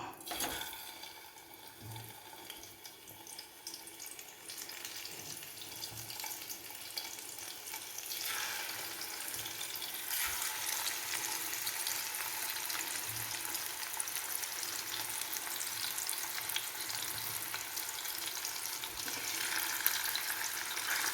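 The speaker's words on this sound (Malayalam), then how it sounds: "മീനൊക്കെ വറക്കുന്ന പോലെ നന്നായിട്ട് രണ്ട് വശം നമുക്ക് വറുത്തെടുക്കണം" Chicken pieces for a chicken pickle fry in oil, turned to brown on both sides, giving a steady close hiss that swells and stays loud throughout, with no talk over it.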